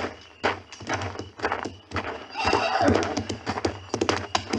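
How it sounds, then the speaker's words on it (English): Horses whinny and snort nearby, with scattered hoof clops and thumps, a few separate bursts building into a louder, busier stretch. "The horses, there's somebody out there."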